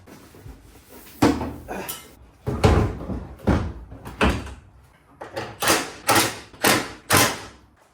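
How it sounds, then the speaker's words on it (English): A run of heavy thumps and clunks, a few irregular at first then several evenly spaced knocks near the end, as a Honda Prelude car door is mounted and shut. "Let's just put the door on. And let's just see how it sits."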